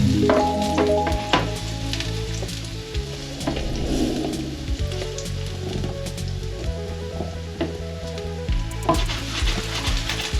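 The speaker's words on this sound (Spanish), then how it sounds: "Esperamos a que los ajitos se doren." Garlic cloves frying in oil until golden, with cured Iberian ham nearby in the pan, giving a steady, close, dense sizzle and crackle that runs throughout with small spatters and no speech.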